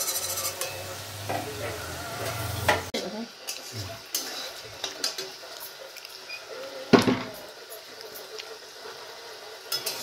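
Fish curry with coconut milk cooking in a pan: a bubbling, sizzling simmer with clinks and scrapes of utensils against the pot, plus some faint background sounds and possible brief voices.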